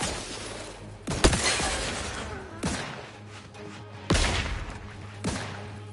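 Gunfire in The Outer Worlds 2 video game: loud, close bursts of shots with sharp cracking attacks and shattering tails, roughly four heavy volleys in a few seconds over a constant low hum.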